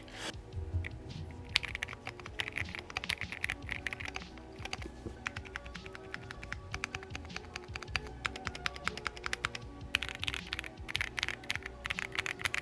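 Steady, fairly quiet typing on a Keychron Q15 Max mechanical keyboard, a continuous patter of muted key clicks close up with no voices.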